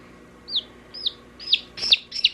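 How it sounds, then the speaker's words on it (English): A hen clucks close by in five short, rising calls spaced about half a second apart, each getting slightly louder and busier, with no talking. "This is a hen."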